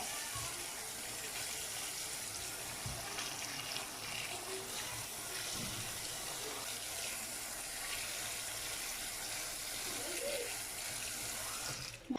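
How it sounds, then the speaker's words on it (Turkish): Muddy garden vegetables rinsed under a running tap on a balcony, a steady faint splashing flow of water throughout with small clatters, no talking. "Yıkatıyorum. Şöyle tozu falan gitsin diye çünkü dolaba yerleştireceğim için bazıları da çamurlu."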